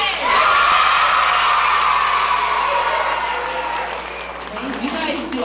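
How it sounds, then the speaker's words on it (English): Schoolchildren at a school assembly cheer and shout loudly for a boy named Justin, a dense burst of excited young voices that rises at once and holds before easing slightly toward the end. "See if we can cheer even louder for Justin."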